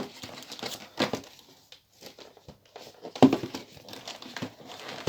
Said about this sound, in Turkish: Evet arkadaşlar şimdi kutumuzu açmaya başlayalım